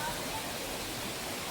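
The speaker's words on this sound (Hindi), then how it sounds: "मंदिर के बाजू में झरना, ऊपर से झरना चला था" A waterfall beside a hillside temple pours water from above, a brief, faint, even rushing hiss heard alone.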